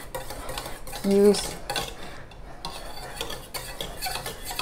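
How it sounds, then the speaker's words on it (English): Oreo chiffon cake batter being whisked in a bowl, a soft steady scraping and swishing that runs throughout, close by, with one brief louder clink near the start. "I'm going to whisk it a bit more"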